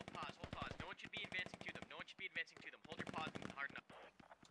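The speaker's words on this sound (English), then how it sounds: "A lot of gunfire coming out." Rapid bursts of automatic gunfire in a squad-based shooter video game crackle repeatedly in dense, uneven volleys, with brief pauses between strings of shots.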